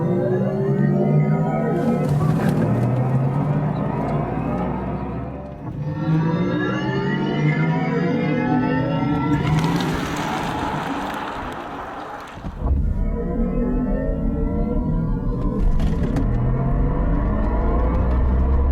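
A Mercedes-AMG EQS 53 electric car plays its artificial driving sound, a loud synthetic whirring tone that sweeps and rises in pitch in several long waves, as if accelerating, with abrupt cuts between passes.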